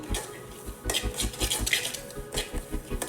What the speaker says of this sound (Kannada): ಸಾಕು, ಇಷ್ಟು ಫ್ರೈ ಮಾಡಿಕೊಂಡ್ರೆ ನೋಡಿ ಚಟಪಟ ಅಂತ ಇದೆ